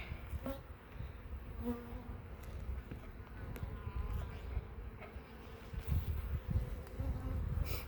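Honeybees buzz in a dense, close swarm around an open hive while a chunk of burr comb is pulled off, with soft rustling and knocks of hive handling under the drone.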